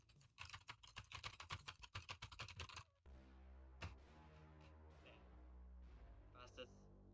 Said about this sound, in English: Spam the spacebar.